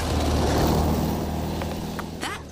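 A car passes along a country lane, a broad engine rumble that swells early and then slowly fades as it moves away, with a few faint sharp sounds near the end.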